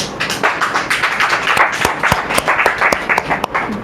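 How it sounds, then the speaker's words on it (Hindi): Audience applause at a Hindi sermon, a steady patter of many hands clapping, with sharp individual claps standing out, sustained for a few seconds. "तालियां बजनी थी।"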